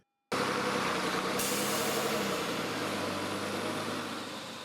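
City buses with air brakes, a fleet brought in from Italy, France and Sweden, give a loud continuous engine rumble and hiss that starts abruptly and holds steady, fading slightly toward the end, with no talking.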